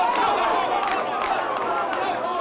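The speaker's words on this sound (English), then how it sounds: "you can hear Sol's crowd really getting behind him." Boxing crowd roaring in support of a fighter, Sol Gilbert, during his bout with Darren Guisha; a dense, steady wash of cheering and chatter fills the whole moment, with a few sharper shouts rising out of it.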